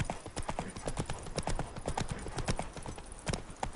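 Geralt's horse Roach trotting in The Witcher 3, hooves clip-clopping in a brisk, steady rhythm at close range, loud and continuous with no talk over it.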